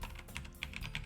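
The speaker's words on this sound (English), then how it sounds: "Wait, why are you typing?" Fast typing on a computer keyboard comes as a brisk run of close, crisp key clicks at an uneven rhythm, with no talking.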